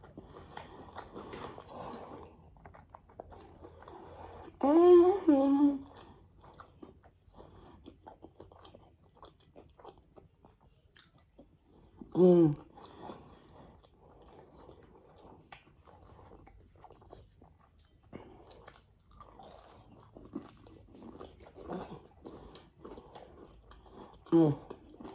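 Crunchy bites of a breakfast bowl eaten close to the mic, a few short loud bursts of chewing separated by quieter stretches with faint talk and background noise.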